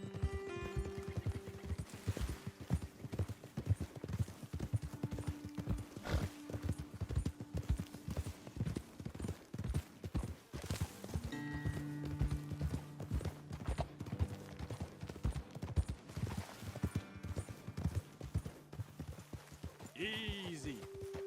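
Horses' hooves clip-clopping as riders travel in the video game Red Dead Redemption 2, a steady uneven rhythm of close hoof falls with occasional snorts and a whinny near the end, under intermittent character dialogue.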